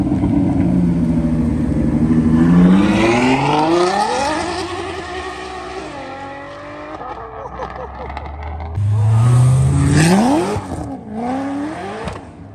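A 6-cylinder Dodge Challenger revs loudly at a car meet, its engine pitch rising and falling through repeated close, powerful pulls, while people talk over it.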